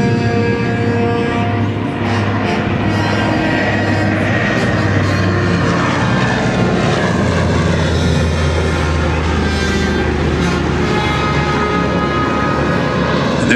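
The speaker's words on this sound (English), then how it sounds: "Two big Pratt & Whitney R1830-92 engines." Twin Pratt & Whitney R1830-92 radial piston engines on an aircraft at an airshow give a loud, steady propeller drone that holds close and constant throughout.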